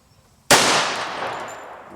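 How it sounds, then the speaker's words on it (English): A single loud, close pistol shot from a 1911 in .45 ACP, a sharp crack at the half-second mark followed by a long ringing decay fading over more than a second, with no talk. "we're going to fire one shot"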